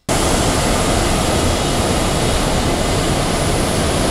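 A special airplane arriving, heard as a loud, steady wall of broadband jet engine roar that holds constant and close throughout, with no voices.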